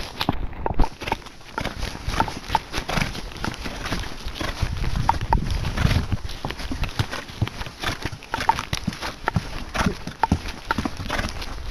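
A horse carrying a heavy load walks steadily, hooves clip-clopping in an irregular rhythm close by, with faint background noise.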